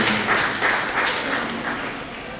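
An audience at a Swaminarayan temple festival in Bhuj claps together. The dense, steady applause swells slightly and then gradually fades, with a voice faintly present underneath.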